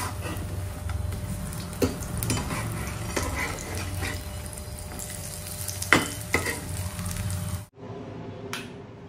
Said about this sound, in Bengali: গরমা গরম পকোড়া ভাজা হয়ে গেছে